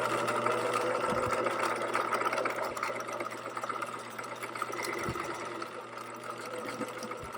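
A sewing machine stitches a pants pocket seam with a continuous, close motor hum and rapid needle chatter, briefly interrupted by a few soft thumps.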